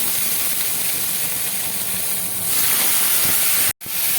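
Hog plums dropped into hot oil with chili and five-spice set off a loud, continuous hissing sizzle that surges midway, then stops abruptly for a moment before resuming.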